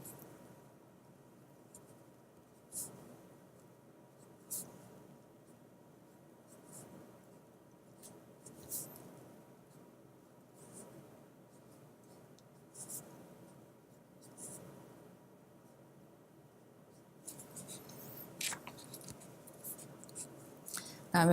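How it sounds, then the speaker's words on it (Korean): A brush pen stroking across paper while forming a Korean calligraphy consonant, producing faint, soft scratches and short sliding strokes spaced out over a quiet background. "다음 디귿자 한번 써볼게요"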